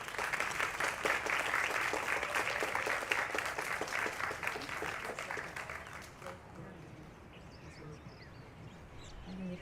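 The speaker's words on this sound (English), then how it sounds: "please give me a big hand and let's give her some nice applause" A crowd at an International Yoga Day celebration applauds a state senator, a lively clatter of many hands for about six seconds before it thins and fades into quieter room sound.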